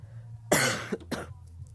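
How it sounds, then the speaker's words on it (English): Two short, harsh coughs from a sick man close to the microphone, the first longer and stronger, the second brief, over a low background hum. "I'll explain the coughing."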